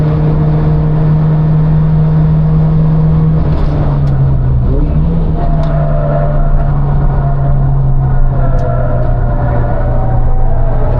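Car engine revving on a racetrack from inside the cabin, a loud steady drone that dips and climbs in pitch as the driver shifts, continuous and close.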